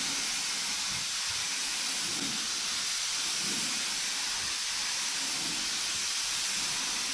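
A spray gun lays down a third coat of paint on a 1959 Dodge Coronet, giving a steady, loud broadband hiss that runs unbroken from start to finish with no pauses.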